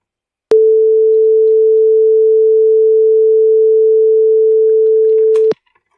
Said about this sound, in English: We can first listen to the 440 Hz pure tone.